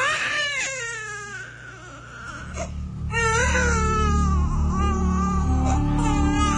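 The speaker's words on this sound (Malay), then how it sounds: "Bayinya menangis di ujung talian tak henti-henti" A baby cries nonstop over a telephone line, with thin, bandlimited wailing sobs that start softer and then grow louder and more insistent, accompanied by a low rumbling background.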